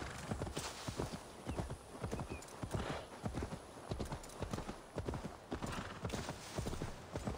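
Horse hooves clip-clop in Assassin's Creed Valhalla as the rider moves near stables, a steady rhythmic trot of sharp hoof strikes with an occasional whinny, and someone talking over the gameplay.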